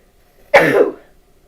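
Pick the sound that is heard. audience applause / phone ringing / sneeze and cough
sneeze and cough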